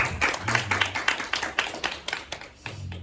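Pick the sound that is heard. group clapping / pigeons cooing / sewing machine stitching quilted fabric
group clapping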